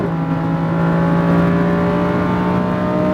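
A Lamborghini Huracan's engine on a driving track accelerates hard in a loud, steady, close drone with a rising pitch through an upshift.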